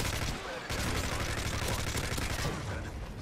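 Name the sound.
gunfire in the video game Call of Duty: Modern Warfare 3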